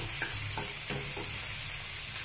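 Tomato soup ingredients with coriander sautéing in a pan, a soft steady sizzle with a few light stirring scrapes, heard alone.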